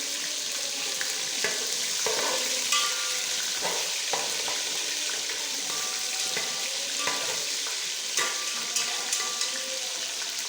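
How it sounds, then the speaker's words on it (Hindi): Large chicken pieces, about half a kilo, fry in oil in a pan for a Lahori kali mirch murgh chana dish, giving a steady loud sizzle with intermittent scraping and stirring clinks throughout, no talking. "अब इसमें ये चिकन डालूँगा और इसे आपने अच्छी तरह फ्राई कर देना।"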